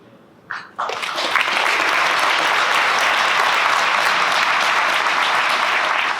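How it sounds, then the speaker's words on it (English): Audience applause at a mayor's State of the City keynote: after a brief hesitant start, a full crowd breaks into loud, sustained, even clapping that fills the room and holds steady to the end. "Applause."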